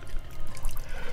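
Splashing and trickling water in the video game I am Bread, a brief, close liquid burble with no talk over it.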